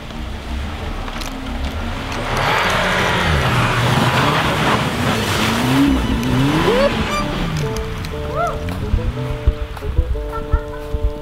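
A 2016 Audi S3 revs and pulls through snow with traction and stability control off in sport mode, its engine note climbing and falling in loud sustained sweeps before a few sharp knocks near the end.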